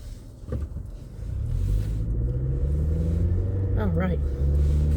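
Cars pass along a road as a steady low engine rumble builds and holds, with one vehicle revving or accelerating near the end, while a person talks over it.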